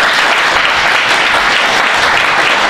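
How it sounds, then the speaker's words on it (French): A church congregation breaks into loud, sustained applause for a few seconds, dense clapping with no talking over it. "Acclame Jésus"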